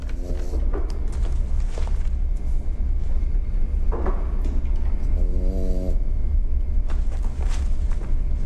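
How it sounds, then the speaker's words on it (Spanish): A dog snores in the video game Supernatural: slow, breathy snores repeat every second or two over a constant low background hum, with no talking. "Lo que me da paz, oír a la perra roncar."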